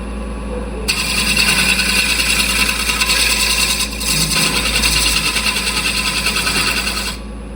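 Wood turning tool cutting and blending two surfaces inside a salvaged maple bowl spinning on a lathe, a steady close rasping hiss that holds for about six seconds over the motor hum, then stops.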